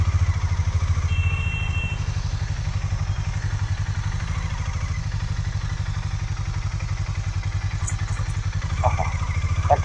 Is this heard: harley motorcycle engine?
yes